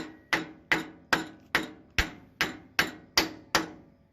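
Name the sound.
tapping engine valve with a mallet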